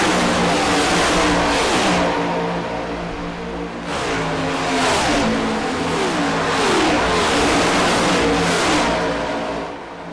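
Race cars in the iRacing sim at the Daytona 500 roar continuously at high revs, with repeated pass-by swells as engines rise and fall in pitch, loud and steady throughout with no talk.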